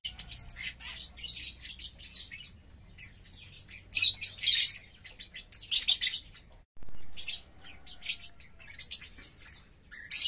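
Startled birds, including a green-plumaged pair in an aviary, burst into bright chirps and tweets in irregular clusters, some loud and close, separated by brief quiet gaps.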